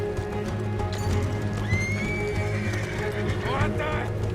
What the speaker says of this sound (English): Let's get to those horses, Morgan!